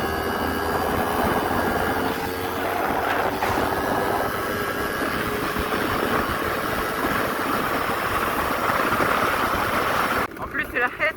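A vehicle engine drones steadily and loudly throughout while being ridden, with a rough, wind-buffeted roar that stays constant before the sound shifts and breaks up near the end.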